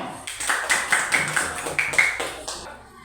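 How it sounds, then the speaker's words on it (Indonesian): Several short bursts of classroom clapping arrive in quick succession, light and uneven, with faint room noise between them. "Tepuk tangan dulu untuk Salsa."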